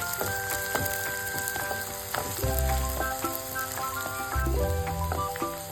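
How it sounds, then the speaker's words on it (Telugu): Ridge gourd (birakaya), cut into thin long strips, frying in oil with a steady, continuous sizzle beneath tonal background music. "వీటిని ఆయిల్లో ఫ్రై చేసుకోవాలి ఒక 1 మినిట్."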